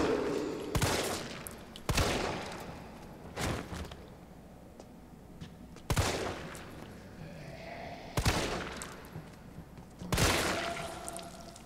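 Gunshots in the video game Resident Evil 3 Remake, six sharp, fairly loud single shots spaced a second or two apart, with quiet ambient noise and faint movement between them and no talking.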